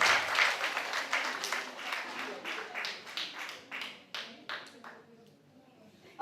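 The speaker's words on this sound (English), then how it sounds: "please give yourself an applause" Workshop participants at an international public speaking event clap for themselves, a burst of applause that starts full and gradually thins into a handful of separate, sharp claps before dying away.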